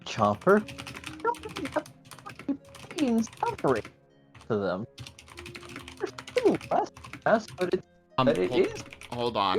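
Rapid keyboard typing clatters close by beneath ongoing conversation, tapping in irregular spurts between and over the voices.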